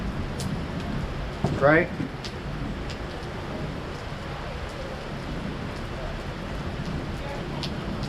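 Rain falls steadily at an outdoor street gathering in Fayetteville, North Carolina, making a soft continuous hiss under a brief spoken word and some distant background noise.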